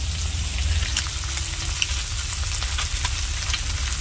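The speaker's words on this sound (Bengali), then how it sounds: "আর এখানে আমুদে মাছটা মা সবে তেলে দিয়েছে" Steady, crackling sizzle of amudi fish frying in hot oil, continuous and close, with small pops scattered throughout and no voices.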